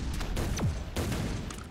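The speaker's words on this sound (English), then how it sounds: "I'm gonna fire some fat-ass guppies in there." Weapon fire in the artillery game Shell Shock Live, a couple of booming shot bursts with a whistling projectile sweep between them, loud and close.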